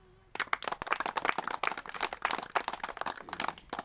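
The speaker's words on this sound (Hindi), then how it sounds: "आप अपने लिए एक बार जोरदार ताली बजा दीजिए।" An audience at a training session claps hard and fast after a brief quiet opening, a dense crowd of sharp hand claps that keeps going steadily to the end.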